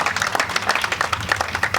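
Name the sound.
bowling audience applause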